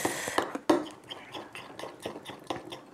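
A homemade face mask of honey, salt and lemon is stirred in a small bowl, with light clinking and irregular taps of a utensil against the dish, fairly quiet and close.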